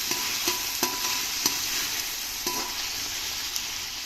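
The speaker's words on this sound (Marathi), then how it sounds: "टोमॅटो शिजतोच आहे, तेवढ्या वेळात मी हे आपले मटरचे दाणे घालून घेते." Green peas go into tomatoes cooking in a pan for a wet murmure breakfast, a spoon scraping and tapping in several sharp strokes over a soft, constant sizzle.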